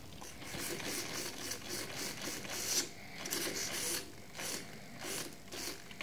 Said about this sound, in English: I move this, you can hear the servo